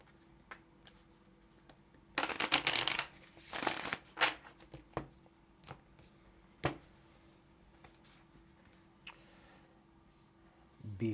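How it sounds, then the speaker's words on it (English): Tarot cards being shuffled by hand, with a loud riffling burst of papery flutter followed by several shorter snaps and taps, close to the microphone and with no talking. "Let's get one more shuffle."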